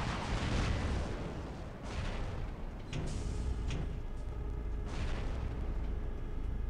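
Aphid missiles firing from a Rhino robot in War Robots: repeated bursts of rocket launches and blasts in a sustained roaring barrage, with several sharper cracks standing out, and no talking.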